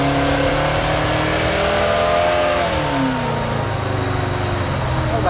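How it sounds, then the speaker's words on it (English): A 1955 Chevy gasser revs and accelerates up close, its engine note climbing and dropping with a steady mechanical gear whine running underneath, loud and continuous. "Did you hear the whine of the gears?"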